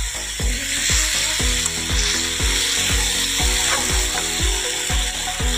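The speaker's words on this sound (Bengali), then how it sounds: "ঠিক আছে, ভেজে নেই।" Bombay duck (lote fish) fries in oil in a wok, a loud steady sizzle overlaid by a rhythmic series of low repeated knocks or thumps, about two per second, throughout.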